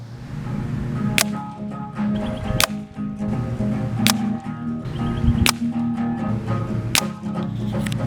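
Winchester Model 72A rifle firing repeatedly outdoors with a light, subdued muzzle report: a series of sharp cracks spaced about one to one and a half seconds apart over a steady background, no speech.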